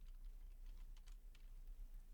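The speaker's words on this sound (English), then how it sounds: "I want to make sure that I'm using left Shift on the keyboard." Faint, quiet clicks from a computer keyboard as the left Shift key is pressed, with soft key taps over a low steady hum.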